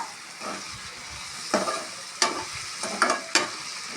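Green chillies and chilli powder fry in hot oil under a steady sizzle, with a few sharp spoon scrapes against the pan standing out close and clear, and no voices.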